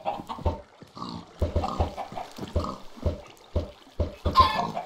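Chicks peeping in Minecraft, a repeated burst of short in-game chirps in an even rhythm, fairly close and clear, with no talking over them.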